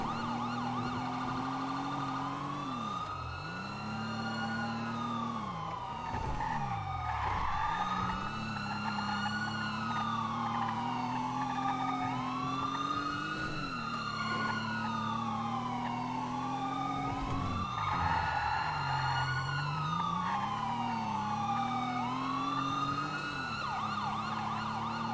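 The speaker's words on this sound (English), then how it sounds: "I hear sirens all over the place" Wailing police sirens in a role-play video game rise and fall in repeated sweeping cycles, steady and continuous, with several tones overlapping like multiple emergency vehicles.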